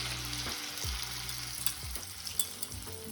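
Pasta and egg mixture frying in olive oil and rendered pancetta fat in a hot pan, a steady close sizzle with scattered small pops and a few soft knocks from stirring.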